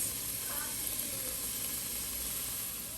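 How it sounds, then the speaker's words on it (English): Green peppers cooking down in a pan give a steady, even sizzling hiss throughout, close and moderately loud with no talking. "While my green peppers are cooking down"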